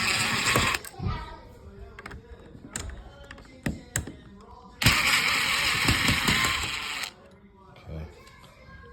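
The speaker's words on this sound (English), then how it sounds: "You take these little 2 screws out right here on each side." Small screws being backed out of a Schlage Encode smart lock, heard as close metallic ticks, taps and short ratcheting scrapes, with a longer dense mechanical whirr in the middle and brief pauses between.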